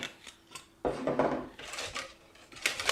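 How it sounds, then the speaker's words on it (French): Chocolate semolina cake batter being whisked quickly in a bowl, bursts of clinking and scraping from the utensil against the bowl, close and fairly quiet. "Là, je mélange rapidement."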